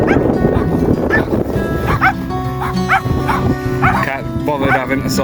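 Several dogs bark and yip in short, uneven bursts at close range along a road in the West Highland Way region, with people talking over them throughout.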